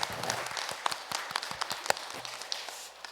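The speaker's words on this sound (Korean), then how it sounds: "우리 하나님께 감사와 영광의 박수 올려드리겠습니다." A church congregation applauds during a Sunday worship service, with steady, dense clapping from a crowd sustained throughout at moderate level before easing off at the end.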